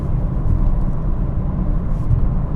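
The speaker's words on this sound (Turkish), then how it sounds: "Şu an 90 km hızla ilerliyoruz. Motor sesi ve rüzgar sesi gelmiyor ancak birazcık lastik sesi alıyoruz" A BMW 418i Prestige F36 travels at 90 km/h, its tyres giving a low, steady rolling rumble and road hum inside the cabin, even and unbroken, without voices.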